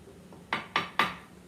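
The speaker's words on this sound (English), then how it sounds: "I'm going to give that a little stir right now" Utensil stirring salted water in a cooking pot, three quick metallic clinks against the pot side in close succession, fairly near and moderately loud.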